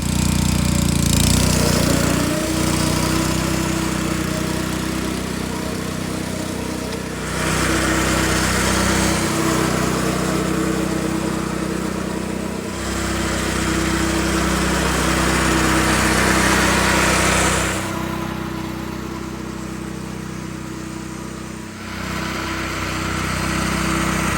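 A California Trimmer classic reel lawn mower cuts grass, its loud motor droning steadily close by with a whirring reel over a low hum. The drone eases briefly a few times as the mower turns, and no one speaks.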